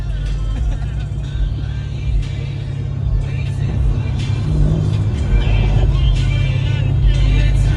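A tuned wide-body Mercedes-AMG CL55 races on the road: a loud, steady low engine drone that swells slightly toward the end, heard from inside the car.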